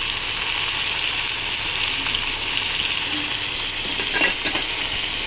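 Shrimp and colocasia stolons sizzle in a frying pan, a steady close hiss with a few clinks of a utensil near the end.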